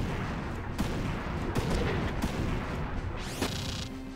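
Artillery volley in the video game Front Mission 3: a loud run of booming cannon blasts with rumbling explosions and a sweeping mechanical whine near the end, heard over steady game background noise without talk.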